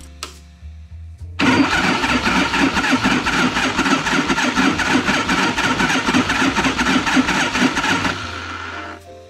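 A 74 cubic inch 1974 AMF Harley-Davidson Shovelhead V-twin is cranked by its starter, a loud, steady, chugging rhythm lasting several seconds before stopping.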